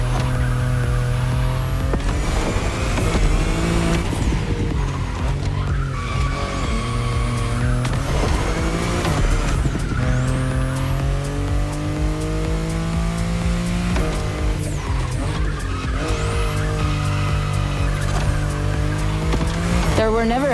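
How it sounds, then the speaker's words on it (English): A BMW i8 sports car in The Crew Motorfest revs and accelerates continuously, its engine note climbing and dropping through repeated gear shifts, loud and close, with brief tire squeal. "the sports car you're driving"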